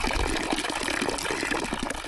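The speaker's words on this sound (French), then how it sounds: "entendre l'eau qui coule, qui tombe dans un petit bassin à même le sol, m'apaise" Water runs steadily from a small city fountain in Milan, falling into a little basin set at ground level, a continuous close splashing and trickling wash with no voices.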